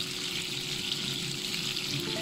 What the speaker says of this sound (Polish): Krewetki są na osobnej patelni, bo krewetki do 3 minut tylko, razem z jednej i z drugiej strony, razem tak do 3 minut się smaży